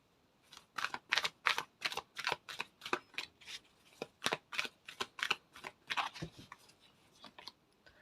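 Tarot cards are shuffled by hand in a quick, rhythmic series of crisp riffling bursts, close and fairly quiet, continuing steadily with brief pauses and no talking.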